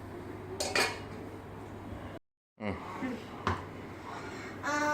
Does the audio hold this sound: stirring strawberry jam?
yes